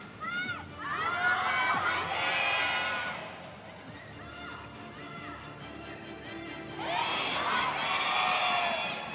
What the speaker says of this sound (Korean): 여러분들의 뜨거운 환호 함성과 함께